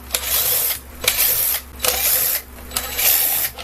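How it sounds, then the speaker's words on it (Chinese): T9 screws are driven out of the cyclone assembly of a Dyson V6 (SV03) cordless vacuum. Four loud, close whirring bursts come at a regular rhythm, separated by short pauses. "那接下来我们就是把螺丝拆下来"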